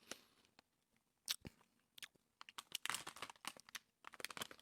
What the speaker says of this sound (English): people don't really like people chewing down a microphone